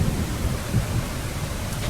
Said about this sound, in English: Oh my goodness, this rain is deafening.